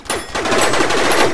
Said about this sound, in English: Another laser tag gun.